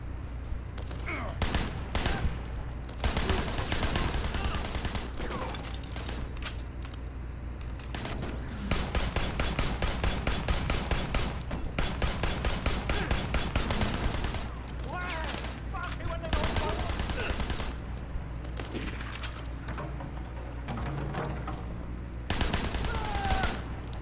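Prolonged gunfight in the video game Sleeping Dogs, Year of the Snake: rapid automatic bursts and single sharp shots recur throughout, loud and close, mixed with other game effects and occasional talking.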